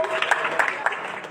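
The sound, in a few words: congregation applauding in church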